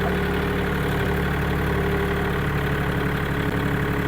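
A used Kubota farm tractor of about 40 horsepower drones close by during a test drive, its diesel engine running steady and loud with a rhythmic knock and no voices.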